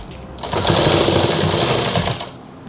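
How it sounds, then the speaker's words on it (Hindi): Sewing machine running steadily while stitching a girl's frock suit, a dense continuous mechanical whir that starts abruptly, holds for about two seconds, then stops, close and loud with no talk. "एक पैर की सिलाई"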